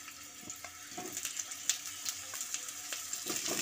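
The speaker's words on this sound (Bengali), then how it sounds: "এবার গরম তেলের মধ্যে কেটে রাখা আলুগুলো একে একে দিয়ে দিচ্ছি।" Diced potato cubes fry in hot mustard oil for a Bengali vegetarian aloo dum, a soft, close crackling sizzle with small bursts as pieces drop in, gradually building.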